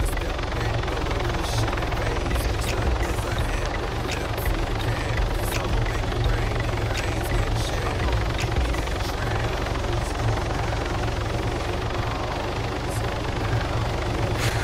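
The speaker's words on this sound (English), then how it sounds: "Alright, chat, I'm finna get this helicopter." Helicopter engine in the video game Arma 3, a constant loud rotor chop and turbine whine that runs steadily without breaks.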